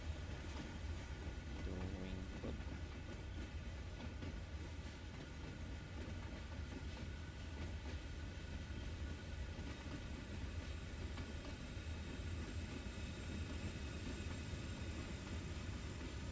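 A train running on the Sand Patch Grade in Train Sim World 2, giving a constant low rumble with a steady mechanical hum and faint clatter that continues unbroken, moderately distant and fairly quiet.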